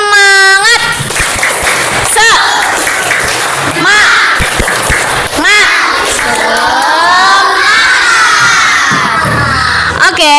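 A classroom of children performs a loud rhythmic clapping chant, claps mixed with shouted and sung voices, close and energetic from start to finish, led by a teacher in a primary school lesson.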